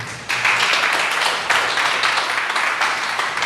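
Church congregation applauding, a dense, steady wash of clapping that starts abruptly after a brief quiet moment and carries on loud and close to the end.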